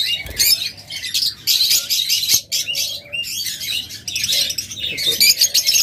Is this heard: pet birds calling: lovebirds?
yes